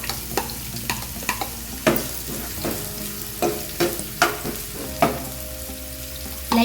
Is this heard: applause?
no